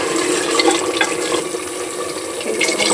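Steady pouring of liquid into mutton curry cooking in a pressure cooker, a continuous close splashing, gurgling stream lasting throughout with no talk.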